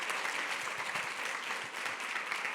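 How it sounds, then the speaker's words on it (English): Audience applause for panelists at a talk, an even wash of many hands clapping continuously and fairly softly throughout the short stretch. "just a huge round of applause for our panelists, Wendy, Jeanne, Silvio."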